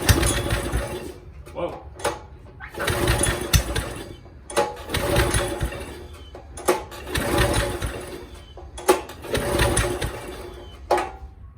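Old Snapper riding mower that sat unused for six years, its engine cranking and catching in several loud bursts that sputter and die between attempts, close by, with a man's brief exclamation among them.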